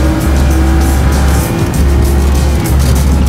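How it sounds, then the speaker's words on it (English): A Cadillac ATS runs hard on the Nürburgring circuit, its engine roaring loud and close with brief dips in pitch as it shifts or brakes, under wind and road noise. "Car gets airborne. Immediately you tap the brakes for a 100 mile an hour right-hander."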